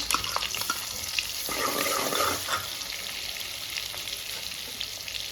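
Butter and onions fry in hot oil over a full gas flame, giving a steady, dense sizzle that stays fairly constant throughout, with a brief louder burst of crackling in the middle and no talking.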